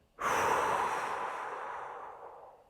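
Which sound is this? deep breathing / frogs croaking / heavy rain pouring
deep breathing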